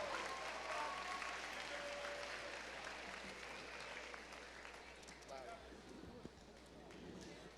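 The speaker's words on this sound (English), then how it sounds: "Let's give our perfect attendance seniors a round of applause" An audience in a high school gym or auditorium at an honors awards assembly applauds the seniors with perfect attendance, a steady crowd clapping that tapers slightly toward the end, with a few whistles and cheers mixed in.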